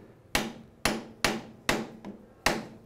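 A hammer taps a screwdriver wedged into the slot of a BMW R90/6 motorcycle's triple clamp, six evenly spaced sharp metallic knocks at close range, each ringing briefly, with no speech.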